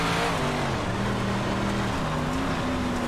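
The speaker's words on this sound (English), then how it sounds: "all you're doing is winding the engine up on the high side in the slick and making lots of noise" A big block dirt modified race car in iRacing at Kokomo Speedway, its engine wound up high and loud on a slick dirt track, holding a steady droning roar with shifting pitch throughout.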